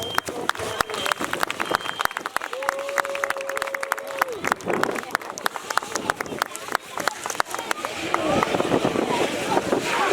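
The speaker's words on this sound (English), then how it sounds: "Let's give these guys a round of applause." Applause for firefighters at a fire department open house, a crowd clapping outdoors, fairly distant, with wind buffeting the microphone and voices talking.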